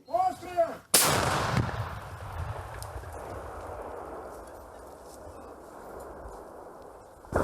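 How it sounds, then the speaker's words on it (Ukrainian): A single massive 125 mm tank cannon blast booms out, followed by a long rolling rumble that slowly fades away, with faint chatter just before the shot. "І ще один снаряд 125-го калібру на додачу."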